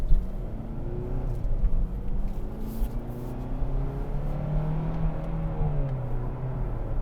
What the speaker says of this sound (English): why is it revving so high?